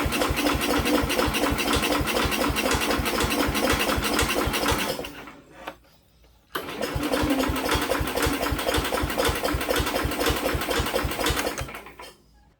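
An old Sears Suburban 12 garden tractor engine with a gummed-up carburetor cranks on the starter in a fast, rhythmic chug without catching, stops briefly, then cranks again just as steadily, loud and close.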